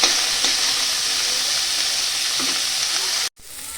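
Vegetables frying in a pan for paneer dal give a loud, dense, continuous sizzle with faint stirring, cutting out abruptly near the end before resuming more quietly.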